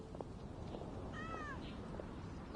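Cats at a tavern in Genshin Impact give one clear rising-and-falling meow over a steady background hiss.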